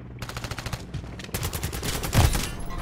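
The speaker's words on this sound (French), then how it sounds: "mais putain, je tire dessus" Rapid automatic gunfire in a PC ranked shooter match, dense bursts of shots in quick succession, loud and close, with a heavier burst near the end.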